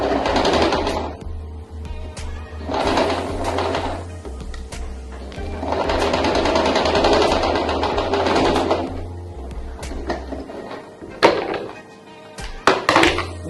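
Sewing machine stitching a face mask made from old shopping bags, running in several bursts of steady whirring with pauses and a few handling clunks near the end.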